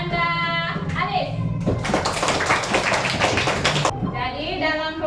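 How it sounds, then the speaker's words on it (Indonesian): Classroom applause for a student during an Islamic studies lesson, a dense burst of clapping hands from a group of children lasting about two seconds, with a teacher speaking before and after. "Beri aplaus dulu untuk temannya tadi, Ananda Alif."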